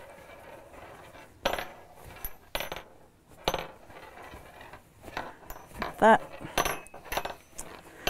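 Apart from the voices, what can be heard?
rings clinking against objects while sewing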